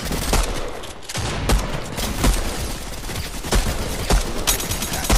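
Rapid gunfire from Fortnite, dense bursts of automatic and repeated shots that crackle loudly and continuously across the whole stretch, with heavier sharp reports punctuating the stream.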